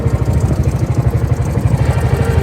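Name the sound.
2006 Suzuki Cultus petrol car engine running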